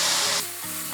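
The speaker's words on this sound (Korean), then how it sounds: "중간불로 볶아주세요." Salted zucchini stir-fried over medium heat with scallion and garlic gives a steady, loud hiss for the first half, which then eases into a softer sizzle.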